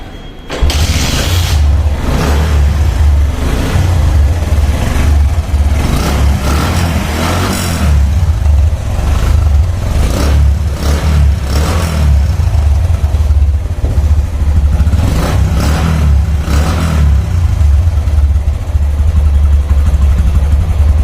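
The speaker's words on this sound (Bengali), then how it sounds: "যদি দেখায় এই বাইকটির সাউন্ড কন্ডিশন তাহলে বুঝতে পারবেন ইঞ্জিন কন্ডিশন কেমন আছে এই বাইকটির" A second-hand Bajaj CT100 motorcycle engine runs loud and close, with a deep steady idle and repeated revs rising and falling throughout.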